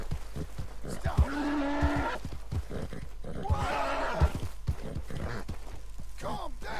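Wild American Paint horse in Red Dead Redemption 2 neighing twice in long shrill whinnies, with snorts, hoof clops and rustling around them, close and loud, while someone talks nearby.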